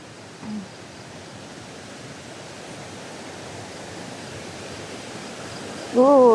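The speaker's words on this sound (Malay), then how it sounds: "Cantiknya air sungai hari ni. Tapi kat sini laju sangat." Fast-flowing river water at a glamping park and campsite gives a steady, broad rushing hiss throughout; a brief voice is heard near the start and a person starts speaking at the end.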